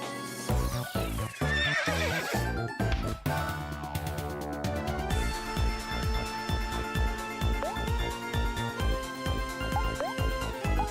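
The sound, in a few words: horse neighing and clip-clop in Omori video game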